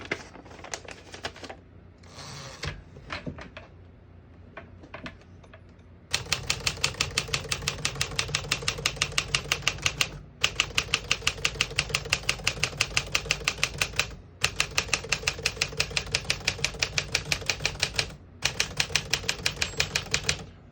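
Rapid, steady clacking of a 1957 Smith-Corona Silent-Super manual portable typewriter's keys in long runs, separated by brief pauses, close and fairly loud.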